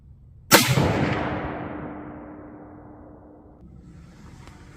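A single loud rifle shot fired at a range through a CVLIFE 6-24x50 scope, a sharp close crack followed by a long rumbling echo that slowly fades, with faint ambient noise afterward.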